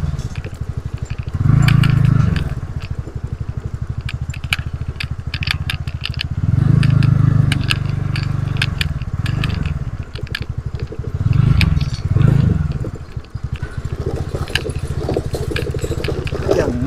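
A scooter rides across a bridge, its engine running steadily throughout with several louder low-pitched surges, close to the rider, with some rattling and scraping mixed in.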